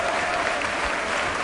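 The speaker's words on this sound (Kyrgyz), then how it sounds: "Дагы бир шаңдыра кол чаап койсоңуздар." An audience breaks into loud, dense applause, a continuous close wash of many hands clapping at once with no pauses and no voices on top.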